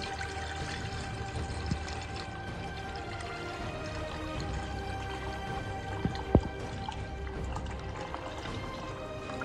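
Homemade desi ghee poured slowly through a fine sieve, a soft continuous trickle with faint drips and one brief clink partway through.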